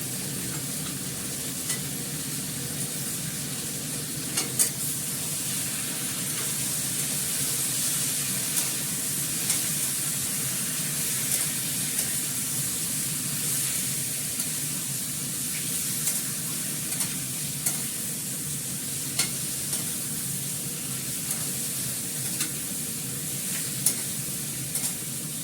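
Spices with Kashmiri chili powder, dried red chillies, bay leaf and garlic paste being sautéed in a pan, a steady close sizzle with scraping stirs that recur across the whole stretch, no voices.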